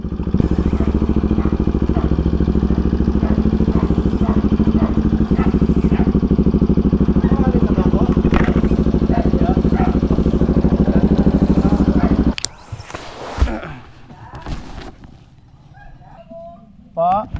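A Bajaj Dominar 400 motorcycle idles close by with a steady, throbbing engine drone that runs for about twelve seconds, then cuts out, leaving quieter clatter and faint voices.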